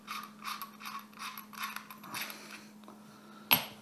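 Metal threads of an Ardent 27mm RDA vape atomizer being unscrewed by hand, a run of quick, close ratcheting clicks and small scrapes ending in a sharp metallic tick, with a steady low hum underneath.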